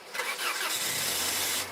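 A 2001 Saturn SC built as a race car, not street legal, cranks and fires up, its starter whir giving way to a steady low engine idle that carries on close and fairly loud.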